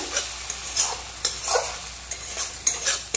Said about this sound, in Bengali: তো আরও 1-2 মিনিট এভাবে নাড়তে নাড়তে কষতে থাকবো।